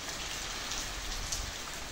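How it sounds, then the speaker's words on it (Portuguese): Heavy rain pours steadily onto surfaces outdoors, a dense, even hiss of drops that stays constant throughout with no voices. "Olha que chuva maravilhosa"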